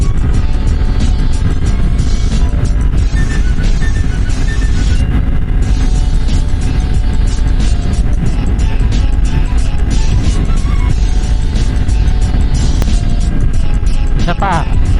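Motorcycle cruising at night on a Dubai–Abu Dhabi highway, steady engine and wind roar throughout as it overtakes a car, with a rider talking over the noise.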